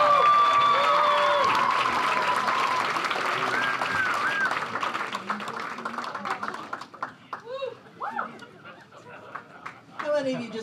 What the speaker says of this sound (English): Give a big round of applause for Monica Welham.